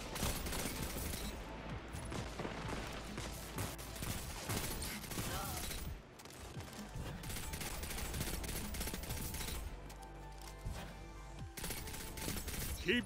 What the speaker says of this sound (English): I can see why this thing is called the best pulse rifle in the game.